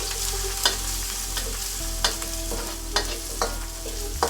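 Ginger and garlic stir-fry in hot oil in a pan over medium heat, a steady sizzle broken by regular scraping clacks of a utensil moving them around, close and alone with no talk.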